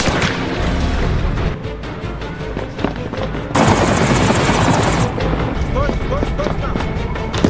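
Helicopter rotor chop in a Jason Statham action film scene, a steady loud thudding drone mixed with gunfire-like bursts and a harsh rushing burst midway, under busy action sound.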